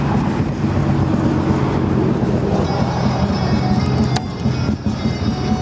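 A Harley-Davidson Dyna Wide Glide FXDWG motorcycle fitted with Vance & Hines exhausts runs with a dense, steady, rough rumble that stays loud throughout and dips briefly near the end. A voice may be faintly mixed in.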